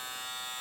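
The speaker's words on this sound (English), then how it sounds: "get to where I can turn the clipper on" Electric clippers run during ear clipping, giving a brief, steady buzzing hum with a bright, even tone, close and moderately loud, lasting under a second.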